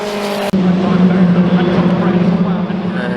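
Historic Formula Ford 2000 race cars roar around Silverstone, a loud, continuous engine drone carrying through, while a commentator talks over the top.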